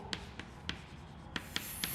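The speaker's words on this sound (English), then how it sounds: "One, I will write it as" Chalk or a marker taps and strokes on a classroom board in five or six short, crisp knocks at uneven intervals, faint over a low room hum.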